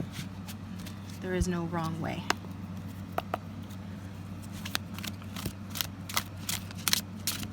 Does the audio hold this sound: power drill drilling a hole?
no